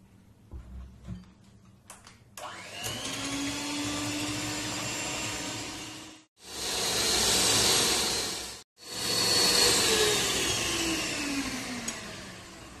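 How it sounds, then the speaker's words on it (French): An electric mixer whisks chocolate cake batter with a loud, steady whine close by. It starts up, then cuts out briefly twice before running on, and no one talks. "Et puis, on va fouetter."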